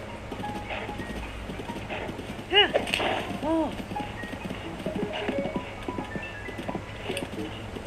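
Hoofbeats of a horse galloping and jumping across a field in the video game Zelda: Tears of the Kingdom, a steady clip-clop rhythm at moderate loudness with game sounds and a voice talking over it.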